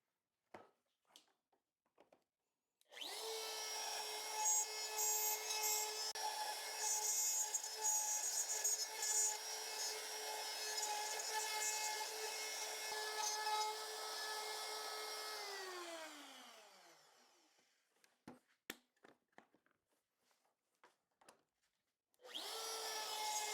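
A router with a guide bearing runs along a template, cutting a cedar fence picket: a loud, steady high-pitched whine holds for about twelve seconds, then spins down, with scattered small knocks before and after and the motor starting again at the end.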